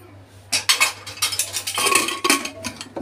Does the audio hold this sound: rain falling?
no